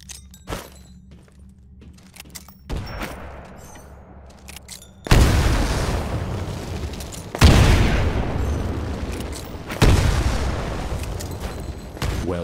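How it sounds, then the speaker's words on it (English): Three loud, close grenade blasts in the Titanfall pilot-training course, each a sudden boom followed by a long rumbling decay, spaced a few seconds apart after a stretch of quieter game ambience. "Throw a grenade into each of the windows"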